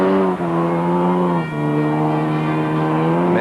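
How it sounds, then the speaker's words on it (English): A Mazda RX-3 rally car with a Wankel rotary engine in a 1978 rally holds a loud, steady high-revving engine note, with brief dips as it shifts or lifts off. "Mazdas with a lot of power from their Wankel rotary engine."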